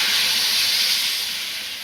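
Toor dal and drumstick pods poured into hot oil spiced with chilli powder and turmeric for a drumstick dal amti, a loud steady sizzle and hiss that fades slightly, with no talking.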